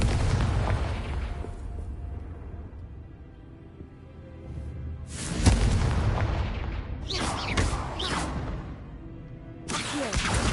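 In the Hogwarts Legacy video game on PS5, the Confringo fire spell goes off in several deep booming blasts with whooshing bursts, set against a rumbling game soundscape.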